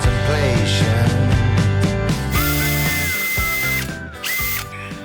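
A power drill whines continuously at close range, its pitch rising and stepping between speeds with ratcheting mechanical tones layered underneath, loud and steady with no voices.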